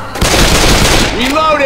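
Brief loud burst of rapid gunfire in Left 4 Dead 2 as players shoot mud men, with a voice coming through near the end.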